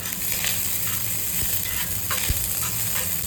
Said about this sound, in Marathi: बारीक चिरून लसूण टाकायचा आणि कढीपत्ता. आता हे एकदम मस्त थोडंसं फ्राय होऊ द्या.